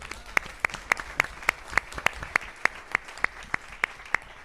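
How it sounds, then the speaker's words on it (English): A small group at a school board of education meeting claps in a slow, sparse rhythm. Distinct separate claps land roughly three times a second, at moderate volume, with a quiet room behind them. "I really hope you can give him applause for that."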